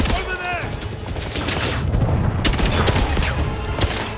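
Bursts of AK-style rifle fire in the video game 007 First Light, rapid sharp cracks layered into a loud, busy firefight with booms and a brief shout mixed in.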